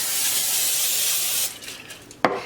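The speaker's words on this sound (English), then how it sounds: "This is just olive oil spray." A steady, hissing spray of olive oil onto asparagus runs for over a second, then stops, followed by faint rustling and a short final spritz.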